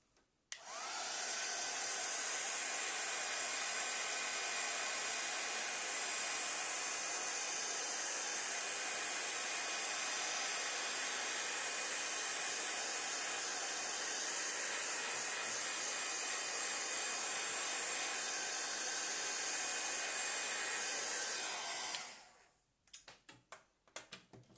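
A hair dryer blows steadily to dry a first layer of paint on a winter nightscape painting, a loud continuous whooshing hiss that runs unbroken for over twenty seconds before cutting off, followed by faint handling sounds.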